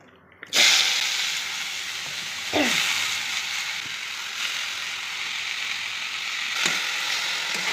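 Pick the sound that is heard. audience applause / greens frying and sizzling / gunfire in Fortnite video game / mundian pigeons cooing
greens frying and sizzling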